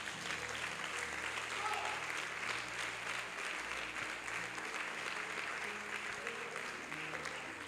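A church congregation applauding during a prophetic worship service, with sustained dense clapping and mixed crowd voices running evenly through the whole stretch.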